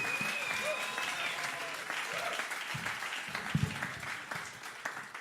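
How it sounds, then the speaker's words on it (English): Steady applause from a comedy club audience fills the space, continuous clapping with some cheering and whoops rising through it. "A big cheer for Max Poole."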